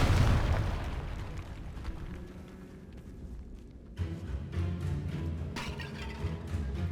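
Explosive spells in the wizarding game Hogwarts Legacy: a heavy booming blast at the start that rumbles and fades, followed by a second softer impact and crackling debris.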